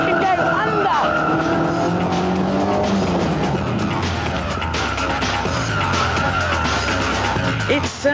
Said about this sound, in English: The low centre of gravity makes a reverse flick a joy